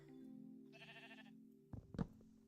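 Video game sheep bleat on a wool farm: a single wavering bleat rises over a low steady hum, followed by a couple of sharp thumping clicks, fairly quiet and without talk.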